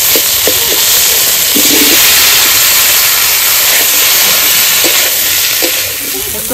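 Vegetables hit hot oil spiced with cloves, cumin, green chilli and ginger for a village veg biryani, a loud, close, continuous sizzle with faint stirring clinks.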